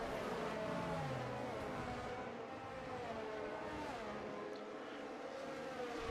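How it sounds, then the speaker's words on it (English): The safety car engine in the F1 2023 racing game drones steadily at the Belgium circuit during a league race, a continuous faint revving roar that holds without a break. "safety car now is going to be driving off into the pit lane, but Kai Dell will be deciding when to resta"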